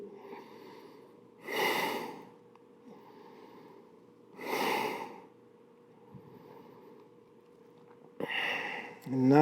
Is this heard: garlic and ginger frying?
no